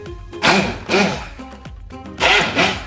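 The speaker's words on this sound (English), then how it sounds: "we're going to use our handheld blender to blend everything in." A handheld blender whirs in three loud, close bursts with short pauses between them while blending a thick hummus dip that has butter in it.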